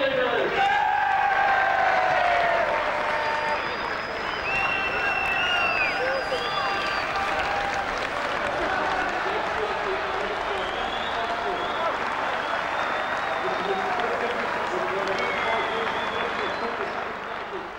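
A football crowd of over 3,800 cheers and applauds in a steady, dense wash of clapping and shouting, with occasional whistles and individual calls rising above the roar throughout.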